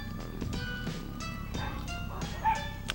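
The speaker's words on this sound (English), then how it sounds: "There's a dog fight going on." Several small dogs bark, yip and whimper in a scrappy fight outdoors, a rapid overlapping chorus at moderate distance over steady background noise.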